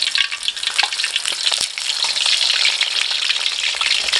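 Thai snakeskin gourami fish frying in a pan, turned over midway: dense, loud, continuous sizzling with a couple of sharp clicks and crackles, no voices.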